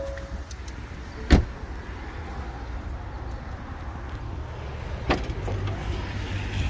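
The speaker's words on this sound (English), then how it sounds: "Automatic lift gate." Power lift gate on a 2017 Ford Edge Sport opening, a low steady motor hum with a sharp latch click near the start and another clunk toward the end, heard close with no talking.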